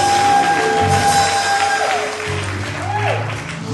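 A church congregation claps together in a broad, steady wash of applause that holds at full strength, then eases slightly and swells again, with a sustained tone running underneath.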